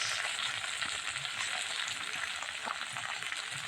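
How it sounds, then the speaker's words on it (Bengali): Spices with turmeric, salt and slit green chillies fry in oil for Bengali koi fish curry, a steady loud sizzle with crackling that runs continuously without any talk. "অল্প আঁচ দিয়ে ভেজে নেব।"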